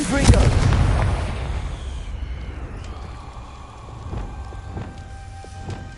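A Confringo spell explosion in Hogwarts Legacy: a loud blast bursts at the start and then rumbles and fades, with faint crackles and pops trailing after it.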